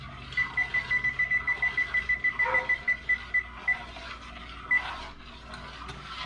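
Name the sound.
kitchen timer alarm beeping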